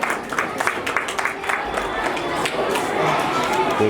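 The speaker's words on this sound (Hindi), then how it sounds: "इनके लिए जोरदार तालियां।" A crowd at a school's 77th Republic Day celebration claps to welcome a guest, with rhythmic clapping early on that blends into crowd noise and chatter.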